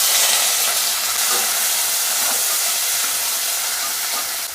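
Onions, green chillies and curry leaves fry in oil with popped mustard seeds and fennel for tomato rice, giving a loud, dense, continuous sizzle close up with no pauses.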